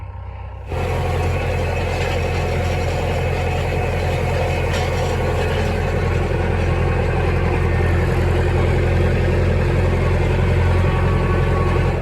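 A tractor engine idles at close range on a hay-baling farm, a steady low rumble that kicks in after a brief quiet moment and holds evenly to the end.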